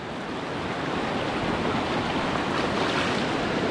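Steady, loud broadband roar of a swollen, fast-rising river, continuous and close, with no voices.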